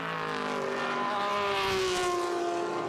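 Historic race cars pass at a Le Mans Classic circuit event, with loud sustained engine notes from straight-six and V8 cars rising and falling as they go by.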